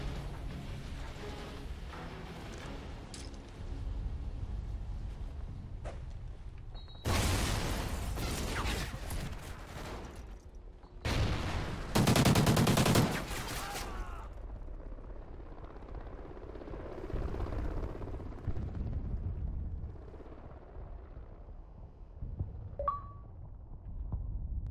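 Gunfire bursts in a search and destroy match of a video game, two loud dense volleys standing out over a steady droning background of engine-like noise, with a few scattered quieter shots later.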